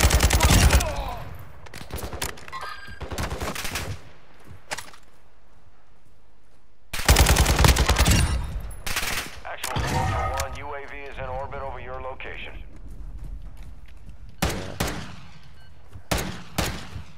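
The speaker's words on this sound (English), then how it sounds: "Taking effective fire!" Game gunfire from Call of Duty Modern Warfare II, with loud bursts of automatic shots at the start and again around the middle and end, broken by quieter stretches, while voices talk over the shooting.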